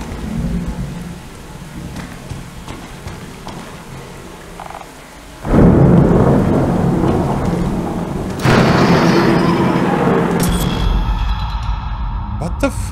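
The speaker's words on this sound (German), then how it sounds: "Ich höre dich, Donner." A horror video game plays a thunderstorm with steady rain and frog-like croaks, then a loud, close thunderclap breaks into a long rumbling roar, followed by a second surge of heavy rolling thunder.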